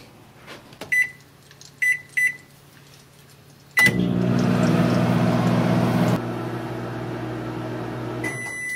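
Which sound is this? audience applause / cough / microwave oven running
microwave oven running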